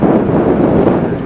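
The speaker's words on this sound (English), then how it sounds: "The wind is still silly, it's blowing an absolute hoolie, isn't it?" Strong wind buffets a rider during a motorbike tour of Scotland's NC500 route near Balmoral, a loud, low, continuous roar that fills the clip.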